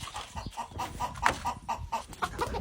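Chickens clucking close and loud, a steady run of short, rhythmic squawking bursts that repeats throughout with no talk over it.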